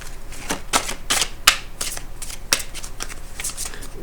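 Tarot cards being shuffled for a reading make a series of quick riffling bursts and soft slaps, close and distinct, about a dozen in a loose rhythm.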